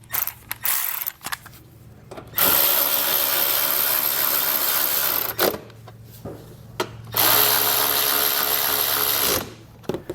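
A power tool runs bolts back in while a Roadmaster Direct-Connect base plate is installed on a 2016 Mazda, loud whirring bursts of several seconds each, separated by pauses and brief clicks.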